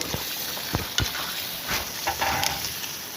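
Potatoes and lentils drop into a hot frying pan with soft thuds and scrapes. A steady sizzle sounds close, with no talk over it.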